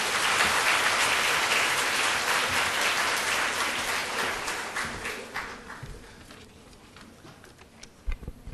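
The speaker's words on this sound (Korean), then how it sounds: "힘찬 박수로 맞이해 주시기 바랍니다." An audience at a university debate competition final claps loudly in a thick, sustained burst that gradually tapers into a few scattered claps as it dies away.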